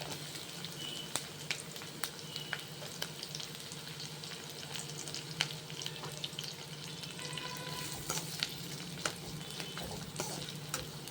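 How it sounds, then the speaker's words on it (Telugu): Chopped garlic, green chillies and onions frying in hot oil for Schezwan noodles, a soft continuous sizzle with scattered light crackles and occasional stirring taps, faint and even throughout with no voices. "ఆయిల్ వేడిన తర్వాత అందులో మనం చాప్ చేసుకున్న వెల్లుల్లి వేసుకుందాం. అలానే పచ్చిమిర్చి, ఉల్లిపాయలు,"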